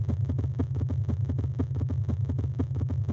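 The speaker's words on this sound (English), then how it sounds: "that is the sound of a pulsating red giant star" Sonified pulsations of a red giant star, a low droning hum with a rapid, steady clattering throb pulsing several times a second, continuous and even throughout.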